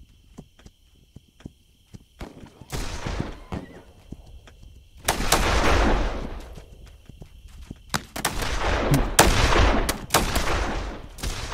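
Gunfire in the video game This Land Is My Land erupts in loud bursts and volleys after a quiet stretch of scattered clicks and steps, with shots overlapping densely in the second half.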